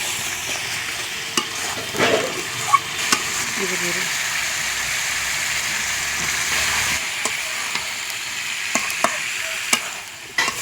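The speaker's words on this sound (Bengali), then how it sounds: "ঘরে করতেছি কোরবানির ঘুরি রসুনের মশলা কষাই নিতেছি" Garlic, ginger, cumin, bay leaf, garam masala and chilies sauté in oil in a home kitchen pan, a continuous close sizzle broken by scraping stirs and light utensil clicks.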